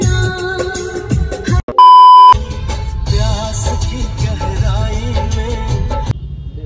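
Vehicle horns blare in a traffic jam in Varanasi, with one long steady horn blast near the start, then a busy jumble of overlapping honks and engine noise continuing close by.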